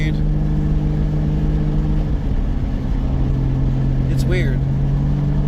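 A Toyota Supra with a 7M-GTE engine pulls uphill in fourth gear, a steady loud low drone with a constant droning hum inside the cabin.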